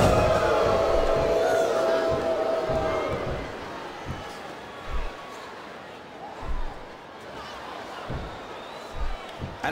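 Wrestling arena crowd at WWE Unforgiven 2006 during Kane vs. Umaga, a loud, broad roar that slowly fades to a softer murmur with scattered thuds and bursts, under commentators talking.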